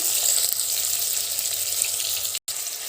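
Brinjal and drumstick pieces sizzle in a hot pan for sambar, a steady bright crackling hiss with faint knocks, cut by a brief dropout near the end.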